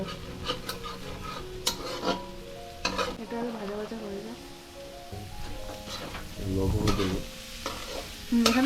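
Fried rice with beans and chilli stir-fried in a pan, with a continuous sizzle and repeated scraping strokes of the spatula, close up, while voices chat intermittently over the cooking.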